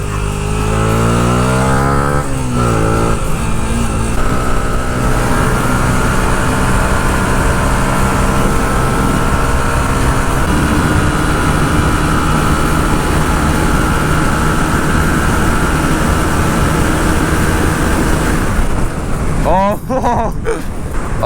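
A 125cc four-stroke motorcycle accelerates past 100 km/h on a 70 km/h road. Its engine roars loud and close, with revs climbing sharply at first, then holds a sustained high-speed drone mixed with wind rush.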